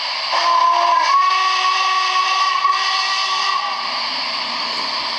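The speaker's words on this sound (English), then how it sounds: "And your longer whistle." Model train sound module sounding its longer whistle, a sustained steady pitched tone lasting around four seconds before fading into a continuous background hum, near and clear, no voices.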